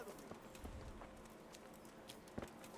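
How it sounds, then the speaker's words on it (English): Horse hooves clip-clop through a busy medieval town in the video game Kingdom Come Deliverance, light hoofbeats mixed into steady crowd ambience with a sharper strike near the end. "That's Sir Hans's horse there."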